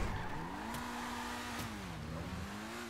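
An Infernus sports car in GTA 5 Online drives with a steady engine drone whose pitch bends up and down, with faint tire noise and a couple of brief sharp knocks.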